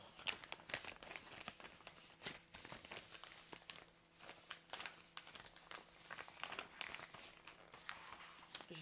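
Plastic packaging of a DIYChoose diamond painting kit being opened, with dense crinkling and crackling bursts interrupted by sharp tearing snaps, irregular and close, for about nine seconds with no speech.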